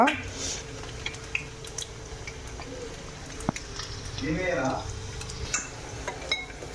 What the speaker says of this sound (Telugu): చూడండి ఎగ్స్ ఎట్లా వేగుతున్నాయో